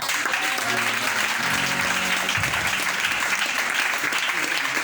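Dense applause from a church congregation, continuous and fairly loud, with a voice audible beneath the clapping.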